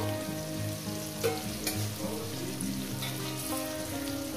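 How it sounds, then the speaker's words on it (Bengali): Okra frying in a pan for a spicy Bengali okra dish, a steady close sizzle and crackle with a few sharper pops and spatula stirs, no talking. "ঢেঁড়সটাকে আমি তুলে নিচ্ছি, এইভাবেই ভাজবেন"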